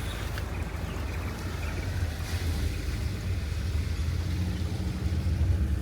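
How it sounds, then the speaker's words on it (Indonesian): A small waterfall at Taman Safari gives off a steady broadband rush of falling water, loud and continuous, with no pauses. "Wah, ada air terjun mini teman-teman"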